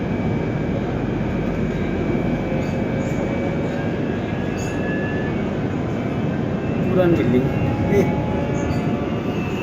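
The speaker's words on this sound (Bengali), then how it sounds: "আমরা তো মেট্রো রেলে উঠছি," A metro rail train in Malaysia gives a steady, loud rumble that fills the whole stretch, with voices talking over it.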